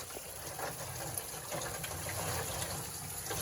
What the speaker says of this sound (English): we're going to rinse them all off